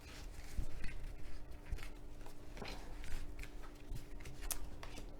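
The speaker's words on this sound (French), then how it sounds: "on va tirer 3 cartes pour chaque tas." Tarot cards drawn from piles and laid out on a surface, with soft papery slides, flicks and light taps coming in quiet, irregular bursts close to the microphone.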